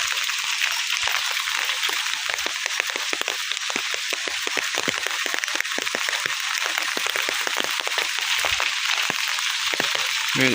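Rain falling on a rainy day in a village, a continuous soft patter of drops with sharper splashes and drips close by, steady and fairly quiet with no talking.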